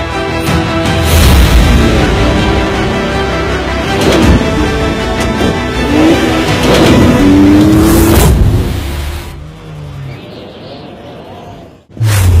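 A mini tractor's small engine runs loud and close, revving and chugging unevenly, then drops to a quieter idle before a brief burst near the end.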